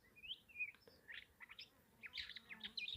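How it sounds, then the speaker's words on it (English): Wild birds chirp calmly near a resting mongoose outdoors, a scatter of short, thin tweets and trills coming in quick irregular bursts, fairly faint over a quiet background. "Please notice that is not the alarm call from the bird."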